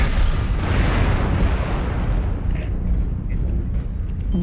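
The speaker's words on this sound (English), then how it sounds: "Warning, incoming missile." Incoming missile explosions in the MechWarrior Online video game form a continuous loud, rumbling barrage of booms and bursts, dense and close throughout.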